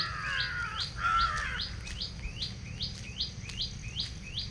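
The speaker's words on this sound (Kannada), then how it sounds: "ಪಕ್ಷಿ ಸೌಂಡ್ ನೋಡಿ ಎಷ್ಟು ಚೆನ್ನಾಗಿ ಕೇಳಿಸ್ತಾ ಇದೆ" Birds chirp in a quick repeating series of short, bright calls, moderately distant, over a soft outdoor hush.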